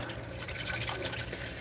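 Water running from the tap of an RV's outdoor kitchen sink, a steady splashing trickle close by with small drips, no talk over it.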